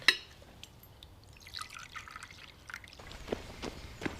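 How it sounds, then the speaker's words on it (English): Coffee is poured into a cup in a kitchen, a soft liquid trickle with a light clink of china at the start, quiet and close, in a hushed room with no voices. "Just pour the coffee."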